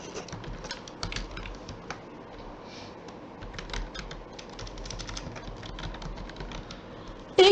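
Steady, continuous tapping of a computer keyboard while Python code is typed, many quick close key clicks in an irregular rhythm, with no voices.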